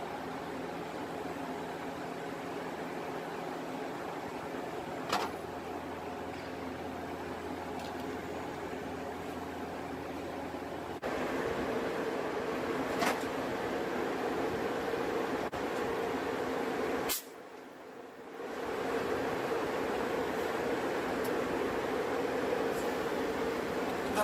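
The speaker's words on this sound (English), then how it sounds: "The noise you can hear, it is not from the system, it is the wind." Steady broadband wind buffeting a microphone outdoors on a very windy day near a below-ground outlet adapter, a constant low rushing hiss with a brief sharp dropout and gust change partway through.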